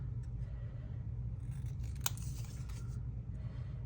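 Scissors trim paper labels in a quick, faint snip or two over a low steady background hum.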